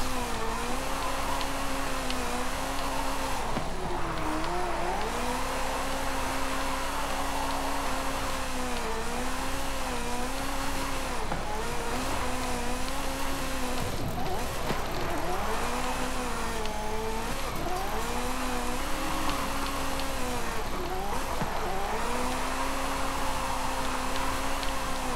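A Ferrari F40 drifting in Forza Horizon 5, its engine revving and bogging in repeated swells over a steady loud drone, with tire noise and no talk.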